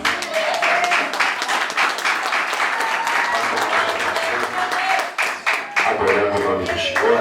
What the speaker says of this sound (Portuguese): agradeço por dar as palmas para o Senhor